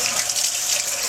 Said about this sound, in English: Washing our hands.